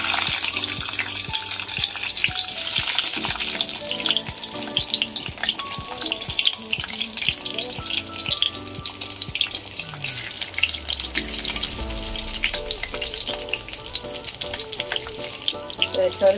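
Stuffed okra and chillies, filled with coconut, turmeric and salt, fry in an oil-filled kadai with a continuous crackling sizzle, punctuated by utensil taps and a brief run of water, with faint speech in the background.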